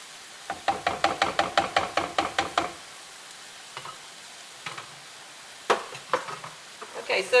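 Ground meat mixture cooking in a pan for zucchini-stuffed eggplant, a quick run of sharp tapping scrapes from a utensil against the pan over a faint sizzle, then scattered louder knocks and clatter.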